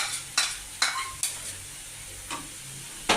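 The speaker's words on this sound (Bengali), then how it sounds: "এবার আমি দিয়ে দিচ্ছি কাজু আমন পেট পেস্টটা" Cashew paste is stirred into a frying pan while cooking a yogurt-based katla fish curry: several sharp scraping stir strokes spaced irregularly over a soft, low sizzle, with no talking.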